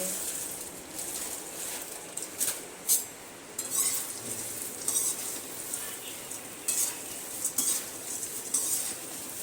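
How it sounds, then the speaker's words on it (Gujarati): Puffed rice tossed into a pan with turmeric and stirred, a close, steady dry rustle punctuated by light spoon scrapes and clinks against the metal, with a faint sizzle underneath. "હળદર નાખીને આપણે તરત મમરા નાખી દેવાના છે."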